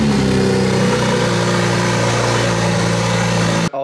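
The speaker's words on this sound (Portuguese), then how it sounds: "O motor pega, mas temos que dar corrente direta no motor de arranque." A drift car's engine runs steadily at a loud, close idle with a slight rising rev, harmonic hum sustained throughout before cutting off abruptly at the very end.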